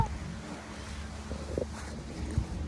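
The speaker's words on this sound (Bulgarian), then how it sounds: "но ужасен вятър дух" Strong wind blows outdoors, gusting and buffeting the microphone with a low, rumbling roar that rises and falls, along with faint bumps and a brief voice in the background.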